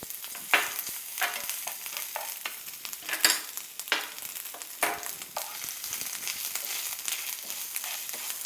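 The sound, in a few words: sautéing coconut in a pan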